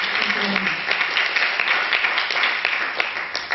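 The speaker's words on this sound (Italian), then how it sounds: "A warm applause for this very competent and wonderful group." Steady, loud applause from an audience honors a violin competition jury at an award ceremony, with dense clapping sustained throughout.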